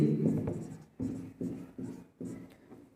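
Chalk or marker writing on a classroom board during a Class 10 trigonometry lesson, heard as four or five separate scratchy strokes in bursts about half a second long, close and fairly loud, with no voices.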